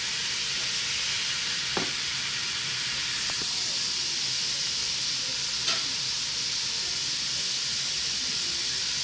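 Vegetables frying in a pan for fish fried rice give a dense, even hiss of sizzling oil throughout, with a few faint clinks of a spatula against the pan.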